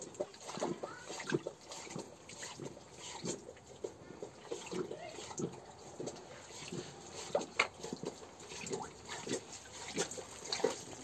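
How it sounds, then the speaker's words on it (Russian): Repeated soft wet laps and splashes as a cow drinks from a bucket, an irregular steady rhythm, fairly quiet and close. "Ну, ты как собака язычком."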